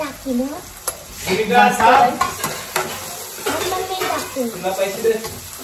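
Food stirred in a pan with turmeric and masala, scraping and sizzling in bursts, with people talking over the cooking.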